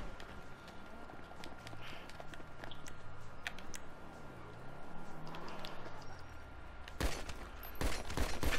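Gunfire in GTA V Online: scattered sharp shots crack over game ambience and engine hum, ending in a loud, close burst of firing in the last seconds, with a player's voice at times.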